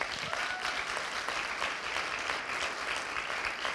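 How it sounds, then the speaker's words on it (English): An audience claps in steady, dense applause for the Business Days team, a continuous wash of many hands filling the room throughout without pause. "I will take 10 seconds, please, to applaud the whole team of Business Days"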